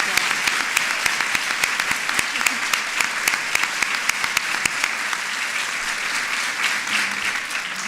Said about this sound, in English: So let's give them both another round of applause.